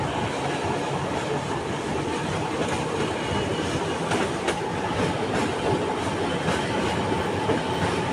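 The Alexandria Raml tram runs steadily on its rails, a continuous loud rumble with rhythmic wheel clatter and occasional faint squeals, heard from on board with no talk.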